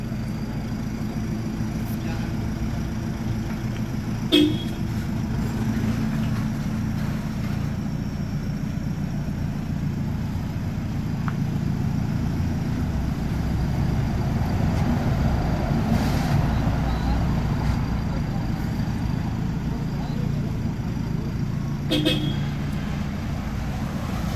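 A Toyota Hilux with a Pidot mid side-exit exhaust idles and rumbles steadily nearby in a roadside setting, a continuous low drone with faint traffic around and a couple of brief sharp knocks.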